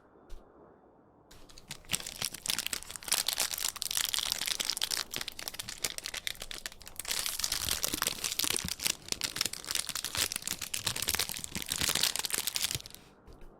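Crunchy, crispy snack food being eaten, a steady stream of loud, close crinkling crunches that continues for about ten seconds after a quiet start, with no talking.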